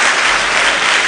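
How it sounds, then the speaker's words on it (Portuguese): A church congregation breaks into steady, dense applause, loud and close, a full crowd clapping without pause. "Dê uma salva de palmas a Jesus."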